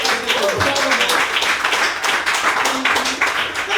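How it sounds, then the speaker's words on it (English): An audience claps through a comedy show celebrating Nigerian independence, a continuous crackling patter of many hands with a voice calling out over it. "Keep clapping for yourself."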